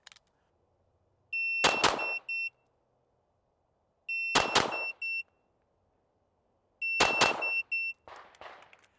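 Pistol shots fired at a target in three quick bursts, each paired with the sharp electronic beep of a shot timer, with evenly spaced sharp cracks and short tonal beeps on a quiet outdoor range.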